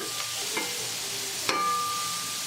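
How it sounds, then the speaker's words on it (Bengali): Steady hiss of vegetables frying in a pan, with a few soft scrapes and one sharper clank as they are stirred. "সবজিটাকে আমি কিছুক্ষণ ভাজা ভাজা করে নিচ্ছি"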